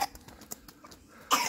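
A child coughs outdoors on a rainy morning outing, several short bursts of coughing followed by a louder harsh cough at the end.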